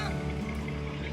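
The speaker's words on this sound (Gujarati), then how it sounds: "અમે જે બોટમાં બેઠા હતા અત્યાર સુધી શરૂ જ નહોતી થતી, ક્યારના બેઠી ગયા, હવે શરૂ થઈ છે" A boat engine runs steadily on the sea on the way to Bet Dwarka, near Okha, a low droning hum with a constant throb that carries through the whole stretch without a break.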